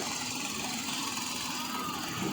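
A car engine idles with a steady, low rumbling drone that holds evenly throughout, close by, with no talking.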